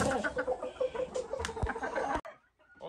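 A grey hen clucks in a rapid run of short, close calls over about two seconds, then the sound cuts off abruptly to near silence with a faint call afterward.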